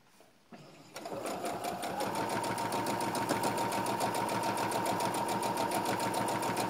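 Sewing machine stitching a curved seam to turn piping inside on a backless step-cut frock; after a short quiet start it revs up into a fast, even, continuous motor whir with rapid needle clatter, close and alone.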